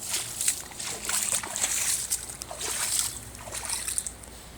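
Rainwater splashes and trickles as it drains off storefronts during a heavy June rainstorm in Fort Wayne, Indiana, a continuous hissing wash of water with uneven surges, fairly close and moderately loud.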